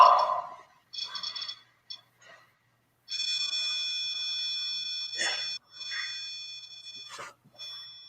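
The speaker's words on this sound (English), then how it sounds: "our REM pod begins to alarm." A REM pod ghost-hunting device sounds its electronic alarm in a steady, shrill tone during a paranormal investigation, starting, stopping and restarting in bursts, with other brief chirps and short gaps between.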